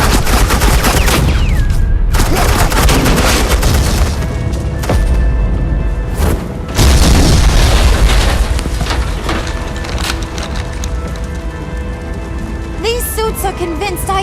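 Suppressing gunfire in a Batman video game crackles loud and dense as sustained automatic bursts and booms, rolling almost without pause, with voices talking over the shooting.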